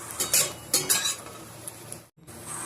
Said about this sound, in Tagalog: Naglagay lang ako ng kunting mantika. Tapos pinirito na natin yung spam. Fry natin until golden brown.